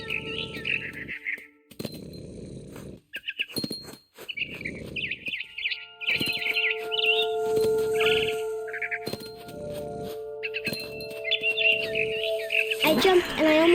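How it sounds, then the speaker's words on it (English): Chirps and tweets from a barn swallow in the video game What Remains of Edith Finch arrive in short bursts with gaps, layered with other game sounds and a louder swell near the end. "Then I heard chirping outside my window."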